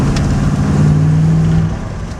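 Carburetted engine of a Triumph TR8 held at a steady high rev, a loud sustained drone with a pronounced low hum, easing off slightly near the end.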